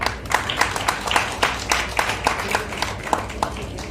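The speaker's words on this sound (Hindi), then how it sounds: "तालियां।" Applause from a seminar audience at a national medical conference inauguration, a light patter of individual claps at moderate distance, steady over a few seconds without talk.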